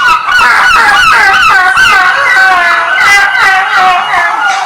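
Seagull cries played as a theatrical stage sound effect: a loud, continuous flock of overlapping squawking, honking calls rising and falling for several seconds with no pause.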